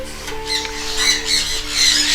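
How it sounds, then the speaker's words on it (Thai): Harsh, shrill sun conure squawks repeat in bursts over a steady background hum, several birds calling close by without pause. "เสียงแซบๆอยู่ด้านหลังของผมก็จะเป็นพวกเสียงของ สั้นคอนัวนะครับ"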